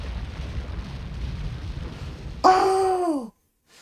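An egg missile explodes in the Sonic Adventure DX video game, a sudden loud blast with a falling, whistling tone that lasts about a second, then cuts to silence.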